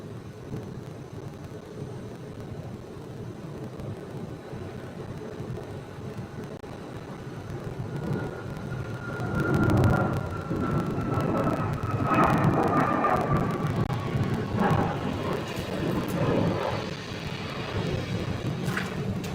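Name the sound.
Southwest Airlines jet airliner departing at Phoenix airport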